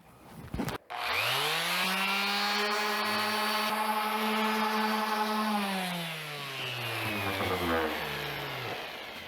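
A random orbital sander working wood with 150 grit paper switches on after a sharp click, holds a loud, steady motor whine, then gradually winds down.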